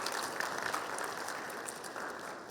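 An audience claps steadily through a conversation event with an investor, with a dense, even wash of applause from many hands at moderate loudness and no break.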